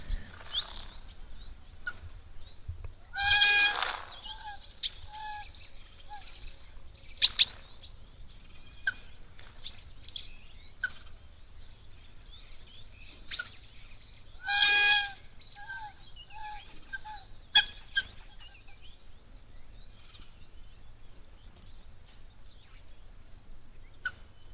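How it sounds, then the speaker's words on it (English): Two loud bird calls ring out at a wildlife waterhole, spaced about ten seconds apart, over a quiet outdoor hush with a few faint chirps in between. "can hear that sort of sound, I am assuming that it is from a bird."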